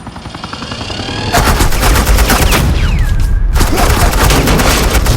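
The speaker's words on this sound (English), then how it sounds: "Suppressing fire." Rapid automatic gunfire rattles without a break in a Batman: The Enemy Within video game scene, loud, dense and close, growing heavier after the first second and continuing to the end.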